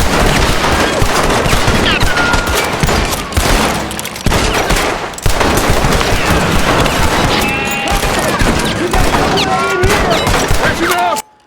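Dense bursts of rapid gunfire crackle almost continuously, with crashes and booms layered in, an intense firefight in Red Dead Redemption 2.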